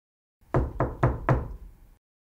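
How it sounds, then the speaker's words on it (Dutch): Four firm knocks from inside a wooden chest, evenly spaced and close by, with a hollow, boxy resonance and no talking. "Er bonkt iemand in die kist."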